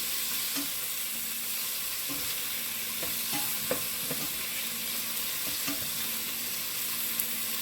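Tomatoes and thyme sauté in a pan for a Jamaican-style callaloo, with a steady close hiss of frying and soft, irregular clicks from stirring.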